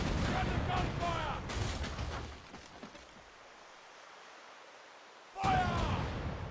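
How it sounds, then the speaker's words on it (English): Heavy gunfire during an attack on ships booms out in a game or battle scene, with loud blasts at the start, a rumbling lull, then another burst near the end, and shouting voices. "We're under gunfire!"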